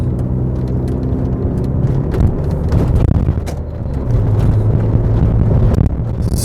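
A SAAB 9000 Turbo Classic with a small turbo accelerates on a freeway, its engine droning loudly and continuously with a steady low roar and rising tone, heard from inside the car.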